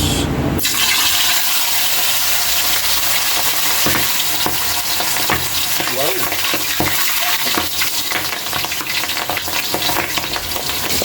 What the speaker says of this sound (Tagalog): mainit na yung mantika natin, lagay na natin yung bangus